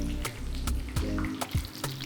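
Rice arancini balls sizzle and crackle in hot frying oil as they are lowered in one by one, a steady close fry broken by a few brief splashy bursts, with no talking.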